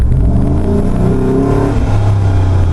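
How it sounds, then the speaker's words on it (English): An LS3-powered Jeep JK's V8 engine rumbles loud and close, swelling briefly as the throttle is touched, a steady low growl with no talk over it. "Touch the throttle and it's instant, it will react"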